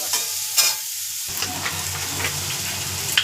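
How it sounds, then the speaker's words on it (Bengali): Bitter gourd slices fry in hot oil while being stirred, giving a steady close sizzle with scraping stirs and no talk. "তো করলাগুলো আমার ভাজা হয়ে গেছে দেখো বন্ধুরা"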